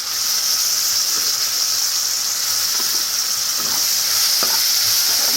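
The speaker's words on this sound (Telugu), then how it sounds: "మంచిగా దీంట్లో ఫ్రై అవ్వాలి" Tomatoes frying in a pan with ginger for a spicy egg gravy give a steady, close sizzle, with a few faint scrapes of stirring.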